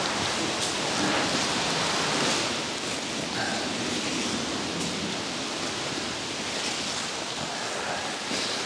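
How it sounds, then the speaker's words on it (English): Steady, even hiss of rainfall filling the whole clip, a dense wash of drops with no breaks and no voices. "It's raining anyways."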